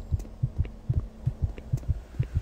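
Fast heartbeat pulsing in Doom 3, a steady run of low double thumps repeating quickly and evenly, close and fairly loud, with no other sound over it.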